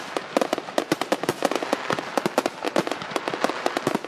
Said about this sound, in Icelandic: Það eru 1039 sprengjur í sýningunni